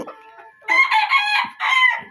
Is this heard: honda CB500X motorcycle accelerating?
no